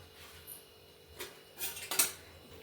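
A metal thali plate is handled in a kitchen while making sukhdi, giving a few light clinks and clatters that peak near the end against a quiet background.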